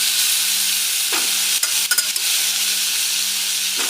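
Hot tempering is spooned into chutney, giving a steady crackling sizzle with a few spoon scrapes and clinks against the pan partway through, close and fairly loud, without talking.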